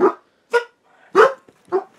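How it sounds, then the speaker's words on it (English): A dog barks four times close by, short sharp woofs with brief pauses between them in an otherwise quiet room. "Are you really barking at people downstairs?"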